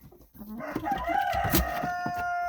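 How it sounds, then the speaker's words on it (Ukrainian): Backyard hens, including a naked-neck bird, cluck and squawk close by in a short burst of nasal, tonal calls ending in a drawn-out cackle, with no talking. "Отакі в наші курочки."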